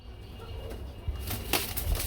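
A pigeon beating its wings in short bursts as it is lifted by hand, close and fairly loud flapping over a low background hum, with no voices.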